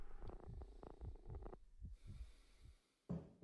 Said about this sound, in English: Is that like robotic purring?